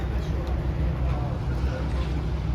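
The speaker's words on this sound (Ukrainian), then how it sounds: "Лодочки з моторчиком, як я розумію." Small motorboats putter along a Venice canal, a low, steady engine drone and churning water heard at a moderate distance under general outdoor ambience.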